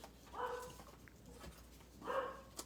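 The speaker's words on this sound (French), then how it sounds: "mon chien, il jappe pas mal fort là, présentement" A dog barks twice, fairly faint and somewhat distant, with short sharp yips about a second and a half apart over quiet room noise.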